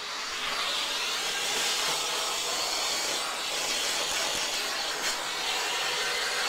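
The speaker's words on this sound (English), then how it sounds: "I'm just going to vacuum away this grunge." A vacuum nozzle draws grime off an Ibanez Gio guitar, producing a continuous airy hiss that holds fairly even from start to finish.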